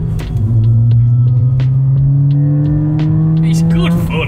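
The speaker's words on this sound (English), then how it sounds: "It's so easy just to give it a little blip with the throttle as well as you go into a corner like that." A Mountune-tuned Ford Fiesta ST180 engine drones steadily from inside the cabin while driving, with a rising rumble and a quick throttle blip near the end.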